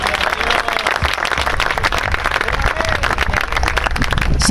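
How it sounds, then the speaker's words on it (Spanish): A church congregation gives a loud, sustained round of applause during a sermon, a dense continuous crackle of many hands clapping close by for the whole stretch. "Dale un fuerte aplauso."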